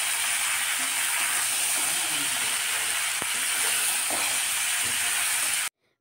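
Peas and broccoli fry in a pan for a Bengali mixed-vegetable dish, giving a continuous bright sizzle with a few soft stirring knocks underneath, before the sound cuts off abruptly near the end.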